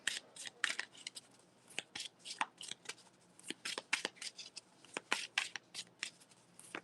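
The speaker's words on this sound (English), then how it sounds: "I ain't even shuffle the cards." Tarot cards being shuffled up close, with quick riffling bursts and crisp slaps repeating in an uneven rhythm over several seconds.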